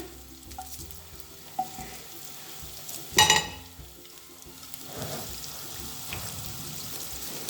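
Garlic and then onion frying in a pan on a high flame, a low steady crackle under a brief louder clatter of the utensil midway, with faint kitchen water sounds in the background.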